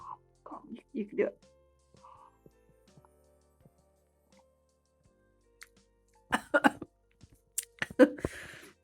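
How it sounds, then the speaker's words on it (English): A few short coughs and throat clearing from hot mulled-wine fumes near the microphone, separated by quiet gaps, with brief speech mixed in. "the fumes just hit my face and I start coughing."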